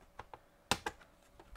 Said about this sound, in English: our keyboard wiggle reveals that this is ready to be removed